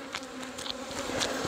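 Honey bees buzz softly in a jar during a powdered sugar roll for mite sampling at a corner hive, a faint continuous hum with a few brief scratchy rustles on top.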